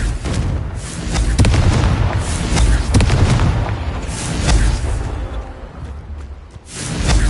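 Repeated Confringo fire spells burst in Hogwarts Legacy, a run of loud booming explosions with whooshing blasts hitting one after another, thick and continuous with no talk.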